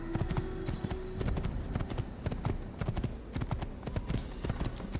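A horse galloping in Assassin's Creed, rapid rhythmic hoofbeats pounding close and loud throughout, with a brief whinny-like tone early on.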